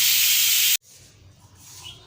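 Curry leaves hitting hot oil for a tempering: a loud, bright, steady sizzling hiss that cuts off abruptly, leaving a quiet, low background.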